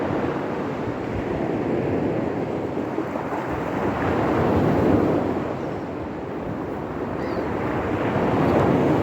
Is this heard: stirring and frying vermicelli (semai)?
no